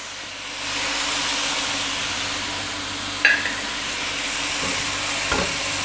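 Chicken chowmein noodles with vegetables, vinegar and soy sauce stir-fry in a steady loud sizzle and hiss, broken by a couple of sharp utensil scrapes against the pan.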